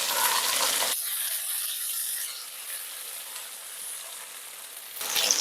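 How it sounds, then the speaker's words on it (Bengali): Tomato and ginger paste fries in a pan for a green banana kofta curry, a steady close sizzle with faint rattling as it is stirred, louder bursts at the start and end. "যতক্ষণ আদা আর টমেটোর কাঁচা গন্ধটা না যাবে ততক্ষণই কিন্তু আমার এটাকে নেড়ে যেতে হবে"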